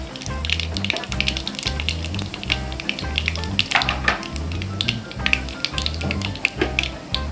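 Chana dal and urad dal fry in hot oil for a Kongu-style rice dish, a continuous close sizzle with scattered sharp pops and crackles throughout.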